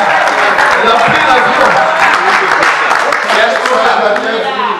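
Dense, loud applause from an audience at an alumni association gathering welcomes a guest who travelled from South Africa, sustained throughout with voices mixed in.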